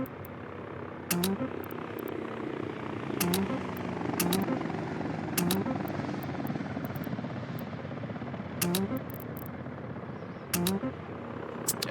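Helicopters fly in the city-building game Workers & Resources, a steady rotor drone running throughout with a few sharper tonal blips and clicks over it, moderately loud and with no talk.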